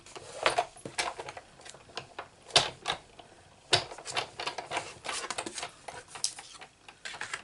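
Small scissors cutting out a tiny paper butterfly for a Stampin' Up card, irregular crisp snips and clicks close up, some sharper and louder than others, with no speech.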